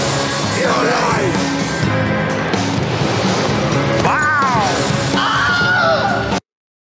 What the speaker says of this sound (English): Why did you have to use the Wilhelm scream?